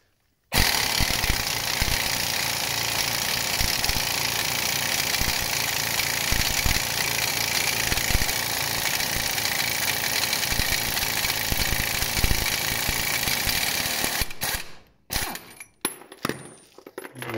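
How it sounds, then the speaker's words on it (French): Undoing the central wheel nut on a Renault Kangoo with a loud power tool, a dense continuous hammering rattle that runs for about fourteen seconds before stopping abruptly, followed by a few metallic clanks. "maintenant je vais défaire l'écrou central ici"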